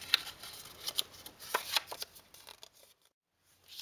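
Paper for a Valentine's Day Post-It note and pen holder being popped out and folded, giving a few short, close crinkling snaps and rustles over about two and a half seconds, then near silence.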